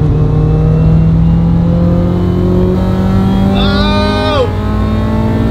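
A Nissan 350Z engine drones steadily at high load, its tone climbing through the gears with one rising rev sweep partway through, loud and close from inside the car.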